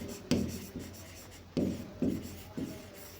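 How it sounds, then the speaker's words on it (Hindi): A teacher writing on a classroom board during a Hindi-language grammar lesson: several distinct scratchy strokes in a slow, uneven rhythm, close and fairly quiet with no talk over them. "इधर लिख दे रहे हैं"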